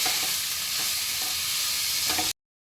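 Chopped cabbage, beans and grated carrot sautéing in a pan for veg momo filling, a steady close sizzle with a few soft stirring scrapes throughout, no talking.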